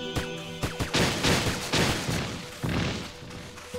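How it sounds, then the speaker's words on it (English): Gunfire in the video game Princess Peach: Showtime! comes as a rapid series of sharp, punchy shots and thuds, several bursts in irregular rhythm, close and loud, with no talk over them. "Oh, he's trying to shoot at me! Oh, he's shooting!"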